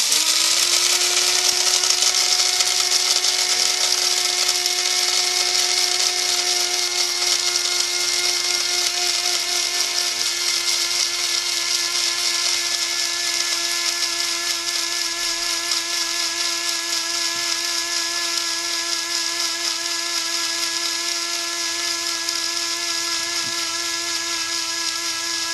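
A coffee grinder grinding beans down to a fine espresso grind, a steady high-pitched whirring drone that runs unbroken and loud for about twenty-five seconds, its pitch shifting slightly partway through.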